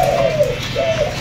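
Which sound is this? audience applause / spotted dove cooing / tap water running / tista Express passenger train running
spotted dove cooing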